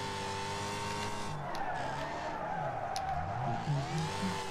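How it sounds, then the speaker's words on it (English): A car drifts in a racing game, its tires squealing in drawn-out wavering whines over a steady engine drone, loud and continuous with a few sharp ticks. "Holy, that last drift there, that was awesome."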